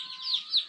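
Two short, faint, high-pitched peeps from chicks at a village home in Taplejung, Nepal, heard with no voices over them.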